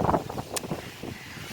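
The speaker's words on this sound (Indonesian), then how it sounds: "Sekarang kita ini banyak angin." Wind blows across the open grounds of a mosque in Lampuuk, Banda Aceh, a faint gusty rush and microphone buffeting with uneven rustling bursts and no speech.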